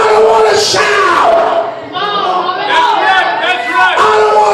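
Church congregation shouting and calling out, loud overlapping voices rising and falling in a preaching service, with a strong voice speaking over the crowd noise throughout.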